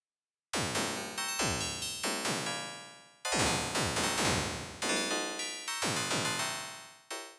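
Bright, shimmering synth chords designed as an ice or crystal sound in Harmor ring out in repeated plucked strikes, glassy and sparkling, each one decaying quickly before the next.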